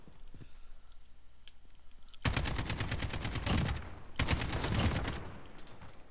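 Rapid gunfire bursts in Call of Duty: Modern Warfare 3 amid sniper activity, two sustained volleys of sharp repeated shots after a quieter ambient lead-in, loud and close.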